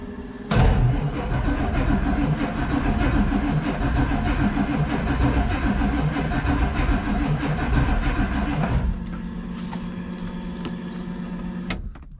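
An Oldsmobile turbo diesel engine that has sat unused cranks on its starter without firing, a steady loud churning drone that runs for several seconds, then cuts out to a quieter hum with small clicks.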